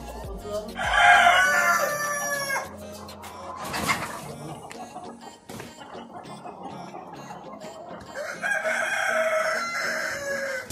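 Kadaknath chickens, a hen and a rooster, with loud crowing near the start and again toward the end, some clucking in between, and people talking over the background.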